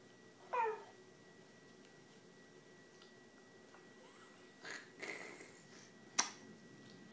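A talking cat app on an iPad gives a short, faint electronic meow, followed by a few soft taps and clicks in an otherwise quiet room.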